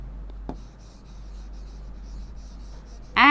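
A word being written on a board during a Class 4 English lesson. Soft, faint strokes scratch quietly near the start, with a single sharper tap, and a sudden louder sound cuts in at the very end.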